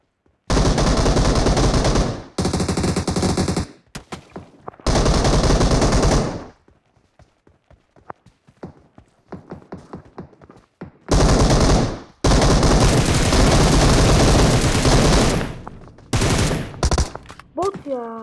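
Bursts of automatic gunfire in PUBG on the Erangel map, loud rapid fire in several long volleys separated by quieter gaps with scattered single shots, and voices talking in between.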